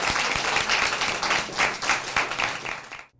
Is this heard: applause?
yes